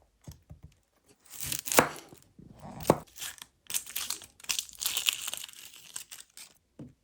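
A small onion being chopped on a board with a knife, a run of irregular crisp cuts and crunchy tearing sounds, close and fairly quiet, broken by short pauses.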